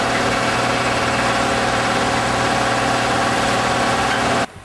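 A valve seat cutter runs inside a cylinder head, cutting a 60-degree angle at low speed, giving a loud steady mechanical drone that cuts off abruptly near the end.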